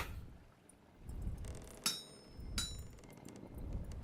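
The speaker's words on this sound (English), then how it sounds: "I wasn't expecting like the hammer breaking sound" Hammer breaking while hammering in the video game Vintage Story: two sharp metallic shattering clinks about a second apart, ringing briefly over a low rumbling background.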